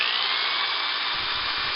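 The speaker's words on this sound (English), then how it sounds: "I'm going to drill a hole right here in the top of the cap so that we can slide our tubing down in it" A power drill with a 5/16 bit bores a hole in the top of a plastic container cap for a brake bleeder, giving a steady, high whirring grind, close and continuous for the whole short stretch.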